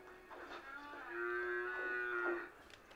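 A cow moos in the video game Craftopia, a single drawn-out, tonal low call that swells and holds for a couple of seconds before fading, close and clear with no talk over it.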